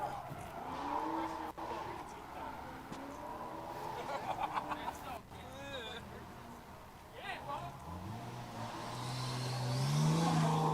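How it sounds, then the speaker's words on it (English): A turbocharged drift car slides at a test and tune day, with rising engine revs, turbo whooshes and brief tire squeals at mid distance, while people talk over much of it. "This is making all the cool turbo noises, Goosh."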